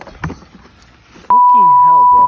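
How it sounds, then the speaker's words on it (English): A loud, steady censor beep tone lasts about a second, cutting over a man's swearing in a junkyard scooter rebuild, with his speech audible just before it. "You can beep that out."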